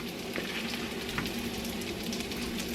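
Seasoned pork chops frying in a pan give a steady, close sizzle with faint crackles and light scraping as they are flipped, with no talk.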